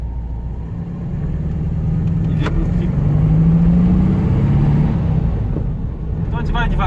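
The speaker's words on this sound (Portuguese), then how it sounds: "agora a gente vai dar uma volta aqui com o Fusca" A 1986 Volkswagen Beetle's air-cooled engine runs steadily at low revs while driving, a loud continuous rumble with a slight rise in pitch midway, while a voice speaks briefly over it.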